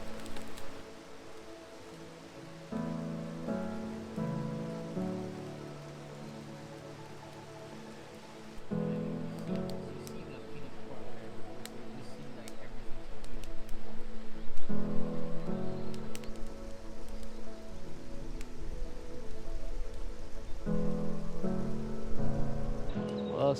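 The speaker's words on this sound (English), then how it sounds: "Well, started raining a little bit." Light rain patters steadily on surfaces at a wild camp in the Scottish wilderness, growing heavier and denser partway through, with faint background music and no talking.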